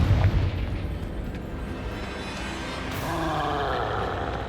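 A Confringo blasting spell explodes in Hogwarts Legacy, a loud booming burst up front that decays into a rumbling roar, with a second swell of noise later on.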